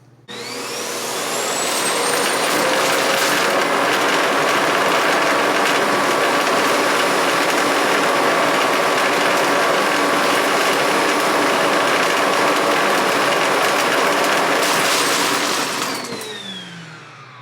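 A Samsung Jet Bot self-empty station sucks out a robot vacuum bin, a loud roaring suction that ramps up, holds steady with rattling debris for about fifteen seconds, then winds down, no voices.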